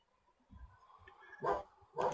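A dog barks in the Stronghold HD strategy game, a few short faint yips then two louder barks near the end, set over quiet game ambience.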